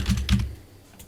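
Keys clatter on a computer keyboard as a password is typed: a few quick, close taps in two small bursts, then quiet room tone.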